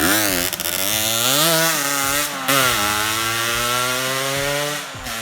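A Kawasaki Victor 150 motorcycle engine revs up and down repeatedly, loud and close, with rising and falling pitch and short throttle blips.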